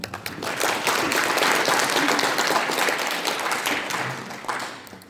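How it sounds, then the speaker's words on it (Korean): Audience at a Lions Clubs International district training lecture breaks into applause, a sustained, even wash of clapping from many hands in a hall that holds steady before tapering off. "다시 한번 큰 박수 부탁드리겠습니다"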